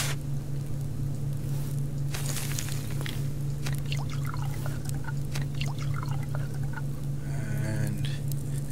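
Water poured onto plants in the survival game Subsistence, a soft continuous trickle and patter over a steady low hum, with no voices.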